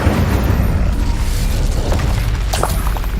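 A fire spell blast cast in the video game Hogwarts Legacy, a heavy booming burst over continuous low rumbling combat noise, with a sharper crackling flare near the end.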